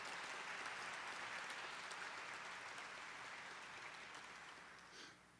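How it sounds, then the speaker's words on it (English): A luncheon audience gives the staff a round of applause, a broad, steady roar of clapping from a large crowd that slowly tapers off toward the end, heard at a distance. "give them a round of applause"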